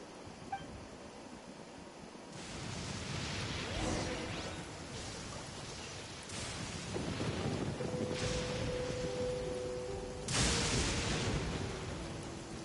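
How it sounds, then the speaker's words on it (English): A Genshin Impact thunderstorm brings steady rain and wind with rolling thunder claps breaking in, the loudest burst arriving near the end. "I should probably deal with this thunderstorm at some point."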